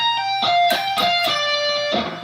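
An electric guitar plays the first six notes of a solo, six clear, close, sustained picked notes in quick succession high on the second string, played alone.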